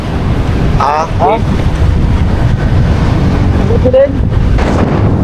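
Heavy wind buffets the microphone with constant roaring rumble, while brief voices and engine-like tones surface faintly underneath.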